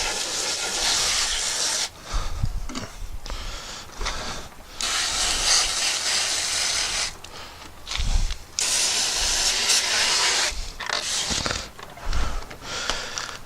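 Water sprays hard onto a pool robot's filter as it is rinsed, a loud hissing rush in several bursts broken by short pauses and occasional knocks of plastic handling.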